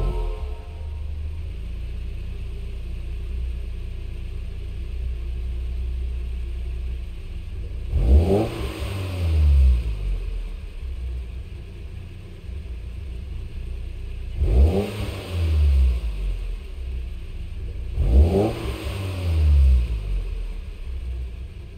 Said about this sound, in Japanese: ハイエースの素晴らしきエンジン音をお聞きください